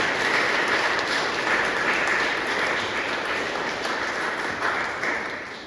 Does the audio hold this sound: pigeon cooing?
no